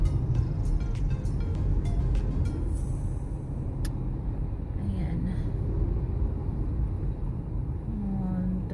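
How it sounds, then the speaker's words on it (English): City street traffic in Lapu-Lapu City, Cebu, heard from inside a moving vehicle: a steady low engine and road rumble with occasional clicks and passing noises, while people talk. "Medyo matraffic dito."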